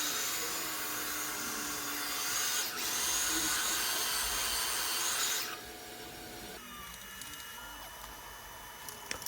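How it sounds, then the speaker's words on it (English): Bandsaw slicing 3-inch pieces from 8-inch steel pipe, a steady loud metallic grinding whine that drops to a quieter, thinner cutting hum partway through, continuous with no talking. "just cutting them out with the bandsaw"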